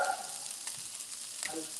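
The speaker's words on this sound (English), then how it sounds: "Here goes the sizzle." Blackened salmon sizzles in a frying pan, a steady hissing fry with a couple of brief stirring scrapes, close and moderately loud.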